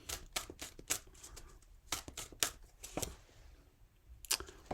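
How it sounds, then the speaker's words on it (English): Tarot cards shuffled in a series of crisp, irregular riffling bursts and snaps, fairly close, with quiet pauses between them and no talking. "Couple more shuffles."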